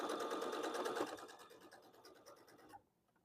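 A sewing machine stitches through a quilt in a rapid, even mechanical chatter that runs for nearly three seconds, then stops suddenly into near silence; quiet and close.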